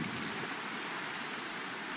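Steady, dense rain from a Minecraft thunderstorm hisses evenly throughout, with a sharp louder burst right at the end and no one talking.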